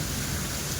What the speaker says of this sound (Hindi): देख लो भाई बारिश, देखो ये बारिश देख लो।